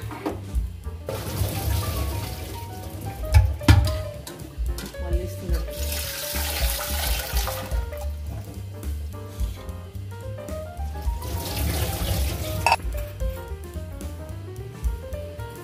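Boiled cluster beans are drained into a sieve, with a brief splash of water pouring through, set against steady background music.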